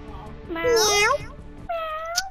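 A child imitates a cat with two drawn-out meows, one bending and wavering and the next shorter and steadier, close and clear.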